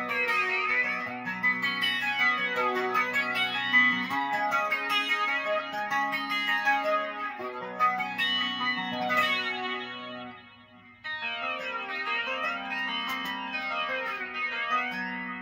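An electric guitar of a Warmoth build in Charvel blueburst plays through a nasal cocked wah tone with chorus and distortion, held chords and picked phrases with a short break near the end, and no voice.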